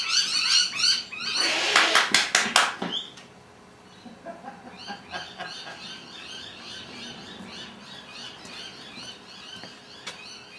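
Myna birds call in a busy jumble of squawks and chirps, loud at first with a sharp burst of calls, then settling into steady, fainter chatter in the background.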